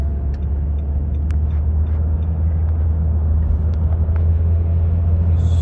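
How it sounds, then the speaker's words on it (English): Car on a road, heard as a loud, steady low rumble with faint clicks and rattles above it. "there's a car coming"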